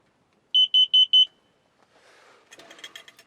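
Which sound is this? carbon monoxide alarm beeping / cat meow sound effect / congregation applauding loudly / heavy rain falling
carbon monoxide alarm beeping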